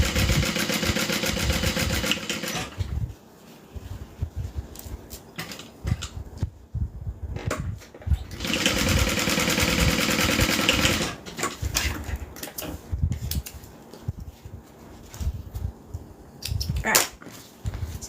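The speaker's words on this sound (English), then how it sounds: "We're going to open that up and give it a top stitch." A domestic sewing machine runs in long steady bursts while top stitching the side bands of a zippered bag, with short pauses and quieter handling noise between the runs.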